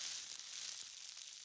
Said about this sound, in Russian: Один это звук, когда ты его поджигаешь, звук фитиля и огнива.